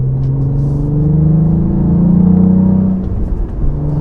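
A 2023 Cadillac CT4-V Blackwing sports sedan engine revs up to about 3,800 rpm with a rising, droning hum, peaks, then drops back toward idle; loud and close with steady rumble.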